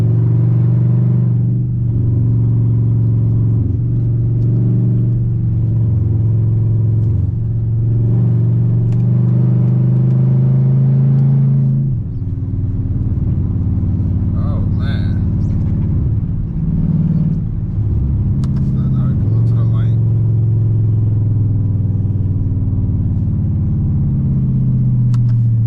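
A Dodge Charger R/T cruises along a road with a speed limit of around 55 mph, heard from inside as a loud, steady low engine rumble and road hum that swells and eases slightly over the drive.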